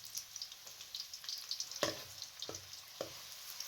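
Onions frying in hot oil in a home kitchen, a steady soft sizzle with a few sharper crackles and pops, faint and close, with no talking.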